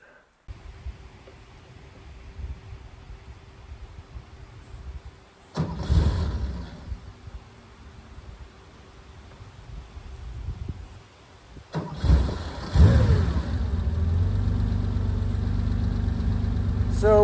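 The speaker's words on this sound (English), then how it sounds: "So here we go with an engine start." A 1974 Porsche 911 Targa flat-six cranking over with a failed first attempt, then catching on the second try and settling into a steady, loud, close idle rumble.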